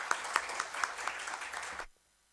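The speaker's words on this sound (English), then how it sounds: "Please welcome Dr. Agha with a huge round of applause." Audience applause welcoming a keynote speaker at a school event, a close burst of many clapping hands with a few sharper claps, cutting off abruptly after about two seconds.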